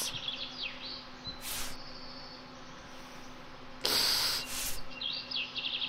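In the Anka video game a wasp hovers close with a fluctuating buzzing drone, swooping in pitch, broken by two sharp bursts of broadband noise, one early and a louder one near the end.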